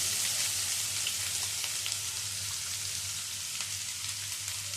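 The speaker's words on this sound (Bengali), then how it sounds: "এখন তেলের মধ্যে দিয়ে দিচ্ছি কুচি করে নেওয়া পেঁয়াজগুলো" Chopped onions frying in hot mustard oil, a dense, even sizzle holding steady and fairly close, with no voices over it.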